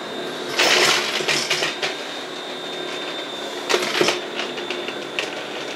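A Lindhaus vacuum cleaner picks up large debris from a floor, with rattling clatter as pieces are sucked in, in two louder bursts over a steady motor hum.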